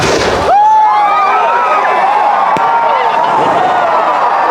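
Fireworks burst in a dense crowd at the Nenmara Vallangi Vela festival: a loud opening blast, then whistling rockets and overlapping crackles with a sharp pop midway, carried over the roar of the gathered crowd.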